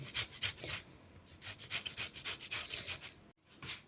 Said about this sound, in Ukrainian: тепер беремо і натираємо зверху нашу варену морковку